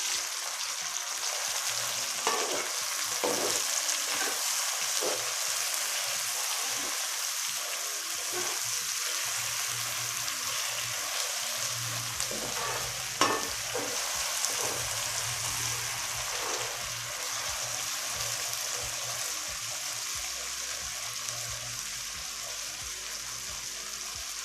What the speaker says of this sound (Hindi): दो मिनट के लिए मैंने सब्ज मिर्च जो है टमाटर इनको फ्राई कर लिया है।